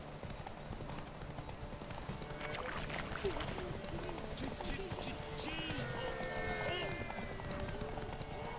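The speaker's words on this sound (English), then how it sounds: "Whoa there, Roach" Hooves of a horse gallop in The Witcher 3 video game, a rapid clip-clop pounding over terrain with game ambience and someone talking over it.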